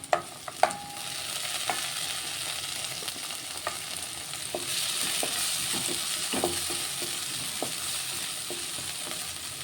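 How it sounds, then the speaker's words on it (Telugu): Onion and capsicum fry in a pan as a spoon stirs them, with a steady sizzle and intermittent scraping clicks throughout, close and moderately loud, no talking. "కొంచెం ఉల్లిగడ్డ ఫ్రై అవ్వాలి ఇప్పుడు కొంచెం క్యాప్సికమ్ వేసుకుందాం"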